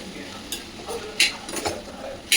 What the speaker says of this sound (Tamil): சேர்த்துட்டு அப்படியே நல்லா வதக்கி விடுங்க